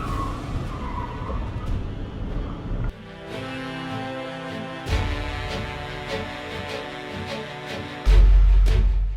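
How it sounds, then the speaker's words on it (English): A car skids out of control off the road and smashes into the front of a busy supermarket, with engine and tyre noise building to a sudden loud, heavy impact near the end. "Out of control and off the road, the car smashed into the front of a busy supermarket."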